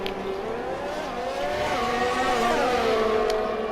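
Race cars in F1 2020 at the Russian Grand Prix, Sebastian Vettel overtaking for the lead: several close engines whine at high revs, their pitches rising and falling and overlapping as cars pass, loud and continuous without speech.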